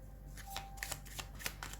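Tarot cards being shuffled, a quiet series of soft riffling flicks and slaps in quick irregular bursts, close up.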